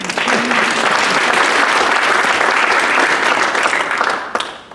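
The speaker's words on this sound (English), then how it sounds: "We need to have a round of applause for that." At a jewelry and metal arts symposium, an audience claps loudly and steadily for several seconds, then the applause trails off abruptly.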